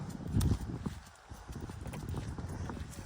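A mare's hooves clip-clop steadily on a hard surface at a walking pace, close by, with crowd noise and faint voices in the background.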